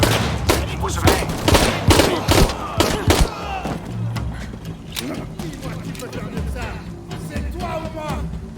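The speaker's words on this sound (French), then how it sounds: "Besoin qu'on confirme les coups de feu." Gunfire in the video game Shadow of the Tomb Raider: a loud flurry of sharp shots and bursts in the first few seconds, then a busier, softer game mix with voices underneath.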